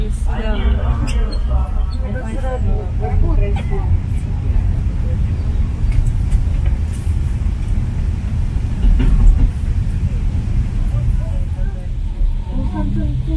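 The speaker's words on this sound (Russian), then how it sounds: "Кира, села в поезд, сразу" A train rumbles steadily along the rails in a continuous low roar, with voices talking briefly at the start and again near the end.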